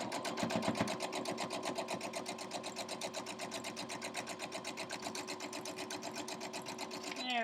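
Sewing machine stitching quilt crumb strips, a fast steady mechanical chatter running continuously at close range with even rhythm, a brief thread-pull or clunk near the end.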